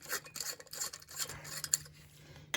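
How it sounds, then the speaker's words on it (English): An incandescent bulb is unscrewed from an Edison-type light socket on a fuse-versus-breaker test setup, giving close, faint gritty rasping and rubbing twists in short irregular bursts over a steady low hum, with no talk. "And then we're going to unscrew the bulb."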